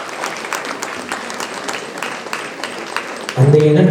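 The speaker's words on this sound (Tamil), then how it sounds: "நல்லா கரகோஷம் கொடுக்கலாம்" A crowd claps steadily in dense, continuous applause at a temple festival devotional music and dance program in Tamil Nadu, then a tone and other sounds come in near the end.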